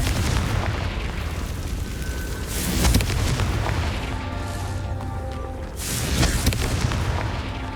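Confringo fire-blast spells explode in the Hogwarts Legacy video game, loud booming bursts over a dense, continuous mix of in-game effects and score, with stronger blasts standing out near the start, middle and end.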